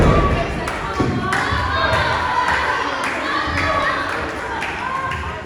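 A wrestler lands an inverted Swanton bomb, travelling backwards onto the mat at a Romford wrestling show. Heavy thuds stand out over a loud, steady crowd roar, with people talking throughout.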